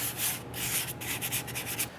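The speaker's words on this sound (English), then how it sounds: "I'm just using 400 grit sandpaper." Close, steady scratchy rubbing of 400 grit sandpaper on brake parts, with several rhythmic back-and-forth strokes over two seconds.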